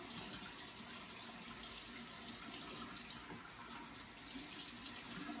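Warm tap water runs steadily from a faucet as a broad, even hiss and splash, moderately close, with no pause over a few seconds.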